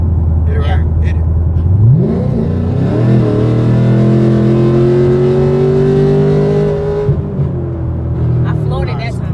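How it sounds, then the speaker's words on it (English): A car engine revs up hard with the pedal floored, its pitch climbing steadily into a loud, sustained high-rev drone for several seconds before easing off. Voices talk faintly near the end. "I floored it that time"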